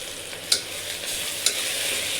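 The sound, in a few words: sautéing black pea pulav with biryani masala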